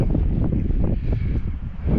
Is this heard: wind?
yes